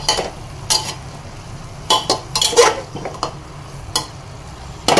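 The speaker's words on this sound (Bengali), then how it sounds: "দিয়ে এবার আমি নেড়ে নেব" Chicken in a pressure cooker being stirred after turmeric and jaggery powder go in, heard as close, loud metal spoon scrapes and clanks against the pot in irregular bursts over a soft sizzle, with no voices.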